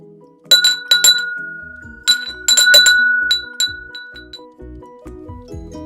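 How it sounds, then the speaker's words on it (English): Bright bell dings ring out in quick clusters over a rhythmic musical backing, some tones lingering briefly before fading. "the school bell was ringing."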